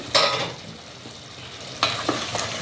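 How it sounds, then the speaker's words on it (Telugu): A spoon stirs keema simmering in a pan for keema pulao, with a few short scraping strokes over a soft, steady sizzle. "కొంచెం సిమ్లో పెట్టి పెడుతున్నాను. నేను మధ్య కలుపుతూ ఉంటాను."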